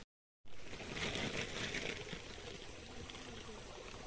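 Water poured out in a steady stream on a jungle outing, starting abruptly after a moment of silence and running continuously at a moderate, fairly close level with a slight crinkle.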